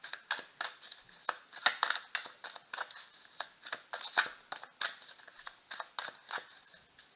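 Tarot cards being shuffled and drawn up close, with a long run of crisp riffling and snapping card strikes in uneven bursts and no talk.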